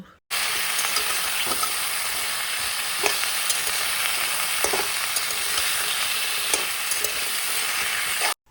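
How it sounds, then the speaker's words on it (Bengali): Drumsticks (moringa stems) seasoned with salt and turmeric fry in a pan, a steady close sizzle broken by a few soft scrapes of a spoon stirring them, with no voices. "এগুলোকে অল্প কিছুক্ষণ নাড়াচাড়া করে একসাথে ভালোভাবে মিশিয়ে নেব"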